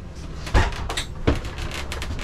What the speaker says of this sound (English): Right over here, we have a pocket door to the bathroom.